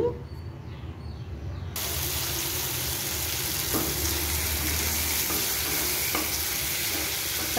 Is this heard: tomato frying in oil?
yes